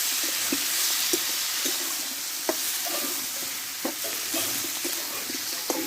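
Vegetables being stir-fried with spices in a pan for a Bengali prawn and Malabar spinach dish, a constant bright sizzle broken by regular spatula scrapes and taps, close and without talk.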